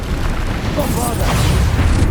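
Bombarda spell blast in Hogwarts Legacy, a loud booming burst with crackling debris, heavy low rumble throughout and a brief high shimmer, very short and close.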